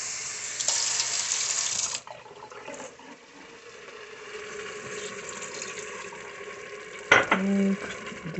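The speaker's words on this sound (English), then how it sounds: "Time to add some water" Water pours steadily into a cooking pan of spiced food with fenugreek for a couple of seconds, then quieter stirring and light kitchen clatter follow, ending with a brief clunk.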